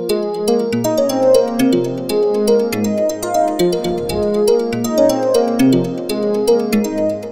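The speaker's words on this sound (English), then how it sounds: "That's Ambient Mallet, the first of the arpeggiated presets that I've picked here from" The Ambient Mallet arpeggiated preset on a Native Instruments FM8 synth plays rapid, even mallet-like notes cycling through a pattern over a sustained low bass tone, bright and continuous with no voices.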